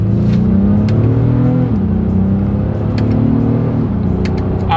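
A 2024 Honda Pilot SUV's engine revs hard in sport mode using the paddle shifters, a loud steady drone rising in pitch with audible drops as gears change, heard from inside the cabin.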